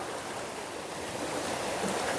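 Ocean waves at Padang Padang Beach, Bali, churn in a continuous broad rush of surf that swells slightly louder toward the end, with no one talking.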